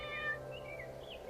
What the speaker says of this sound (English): Look, a kitten!